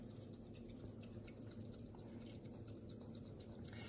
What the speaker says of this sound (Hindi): इसको अच्छी तरह से मिक्स कर लेना है, अच्छी तरह से, ताकि इतना कर लें कि उसमें थोड़े से बबल्स आ जाएं, थोड़ा सा वो फ्रॉथी हो जाए